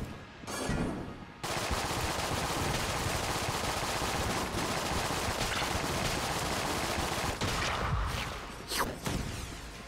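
Rapid bursts of gunfire from the video game Enter The Gungeon, loud and dense, running almost continuously for ten seconds after a brief opening volley, with a few sharper shots standing out near the end.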